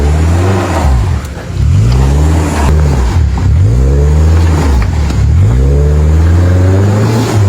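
A car engine revs hard on a steep hairpin turn in Babusar's Baboon Valley, the driver reversing and then climbing straight up, pitch rising and falling repeatedly in loud close surges.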